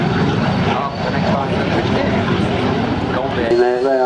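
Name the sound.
L-29 Delfin jet aircraft at air show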